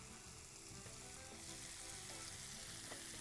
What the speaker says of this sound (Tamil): போட்டு நல்லா வதக்கிறோம்